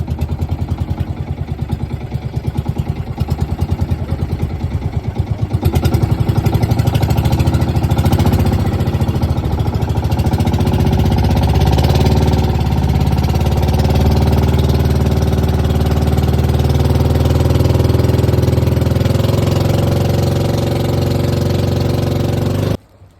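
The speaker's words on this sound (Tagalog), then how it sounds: "Ayan na, pinandar na yung motor." A boat motor chugs loudly and steadily at close range, a rapid knocking rhythm that runs for a long stretch before cutting off abruptly.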